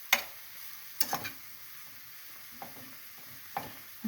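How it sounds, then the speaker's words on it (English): Ground meat seasoned with salt and black pepper fries in a pan, a soft low sizzle under several sharp scraping stirs of a utensil against the pan, close and without talk. "cook that until the meat is brown"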